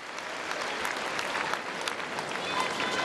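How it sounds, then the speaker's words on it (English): Tennis crowd at the 2009 Australian Open applauding after a third-round match, steady dense clapping from a large arena audience, sustained and even at moderate distance. "let's give a big round of applause for this wonderful Australian player from Queensland, Samantha Stossur"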